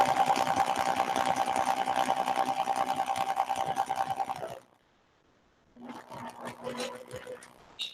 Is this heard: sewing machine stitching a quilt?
yes